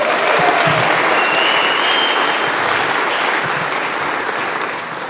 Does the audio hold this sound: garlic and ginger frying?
no